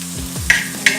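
Green chillies and curry leaves dropped into hot oil for a Kuttanadan duck roast, giving a brief sizzle with a couple of sharp spattering crackles, close and fairly quiet.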